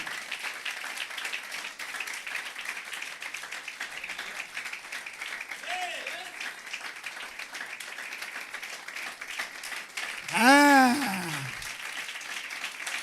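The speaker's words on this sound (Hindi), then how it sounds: "जोरदार तालियां बजाएं बुजुर्ग मां के लिए" An audience at a live sermon keeps up sustained clapping for an elderly mother, a continuous patter running the whole time, with a brief louder swell near the end.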